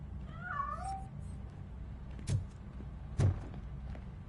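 A single cat meows in the RoboCop Rogue City video game, a short wavering cry near the start, followed by two dull thumps against a low, steady ambient hum, with no talking.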